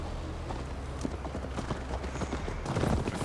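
Hooves of a horse in Assassin's Creed Valhalla gallop in a quick, steady clip-clop rhythm on the long ride to Tamworth. The hoofbeats sit close and grow louder toward the end.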